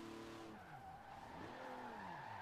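A Buick Regal GNX in the racing game Forza Horizon 4 oversteers, its tires letting out a continuous wavering squeal that swells and dips over a low engine drone.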